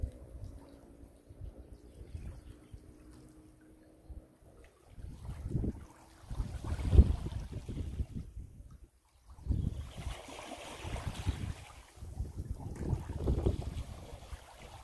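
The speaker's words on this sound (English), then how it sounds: "listening to the waves." Ocean waves wash in and recede on a beach at Bangor, County Down, Ireland, in slow surges, with soft wind and water noise between swells, heard up close and alone.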